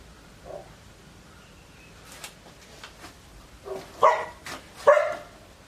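A dog gives a run of barks, a quiet one first, then a cluster of sharp, louder barks close by.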